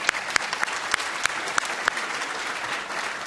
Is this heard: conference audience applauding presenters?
yes